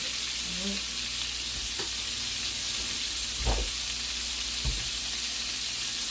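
Scallops sear in a hot pan with a steady, loud sizzle and hiss, with a couple of soft thumps partway through and no talking.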